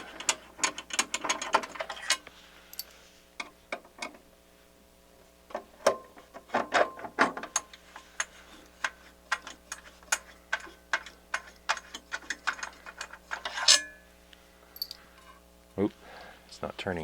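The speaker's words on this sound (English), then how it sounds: "So let's just take these screws out just for transport." M5 bolts being unscrewed from a Pioneer PL-8 turntable produce close, ratcheting clicks and metallic ticks, with someone talking now and then between bursts of tool work.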